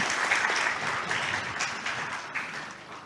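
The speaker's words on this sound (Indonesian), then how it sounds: "Kita beri tepuk tangan yang luar biasa untuk beliau." An indoor audience applauds a speaker after a formal talk on book-system legislation, dense sustained clapping from many hands throughout at even loudness.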